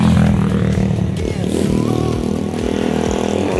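A motorcycle or tricycle engine runs nearby in a steady loud rumble, with some clatter and a brief rise in pitch.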